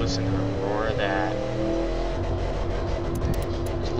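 A powerful car engine with triple carburetors roars with a steady, deep rumble that stays loud and close throughout. A voice can be heard faintly beneath the engine noise.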